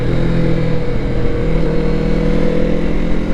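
Kawasaki Z650RS retro motorcycle engine running close and steady, with a slight rise in revs midway and a continuous, even rumble throughout.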